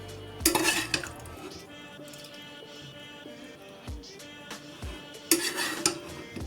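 Meat sauce goes into an eggplant dish in a pan, with a metal utensil clanking and scraping against the pan in two louder bursts and quieter knocks between them.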